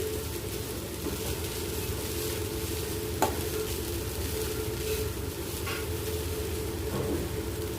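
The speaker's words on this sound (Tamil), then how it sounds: "இப்போது எல்லாத்தையும் சேர்ந்து நல்லா கலந்து விட்டுக்கோங்க" Egg rice mixed with masala is stirred in a pan, giving a soft steady frying hiss with a few faint scrapes and one sharp tap, under a constant low background hum.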